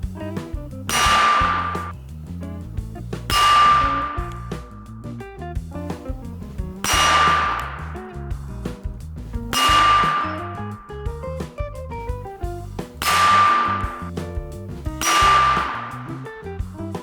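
Six shots ring off steel targets at about 50 yards, each a sharp metallic clang followed by a long, bright ringing decay, spaced a few seconds apart in a slow, even rhythm.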